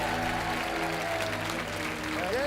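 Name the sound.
studio audience applause for departing game show contestants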